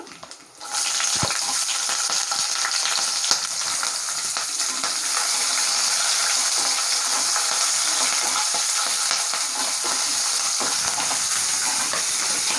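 Onions and green chillies frying in a pan for paneer pulao, a loud, steady sizzle that starts abruptly and continues unbroken for several seconds, with occasional stirring clinks and no talking.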